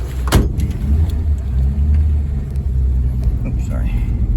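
A 1953 Chevy engine idling after 23 years of sitting, a low steady rumble running quietly and continuously, with a faint click or two over it.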